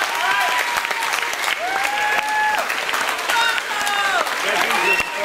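Crowd applause at a chilli festival eating contest final, clapping steadily for a contestant while voices and bright tonal calls or whoops ring out over the top; continuous and fairly close.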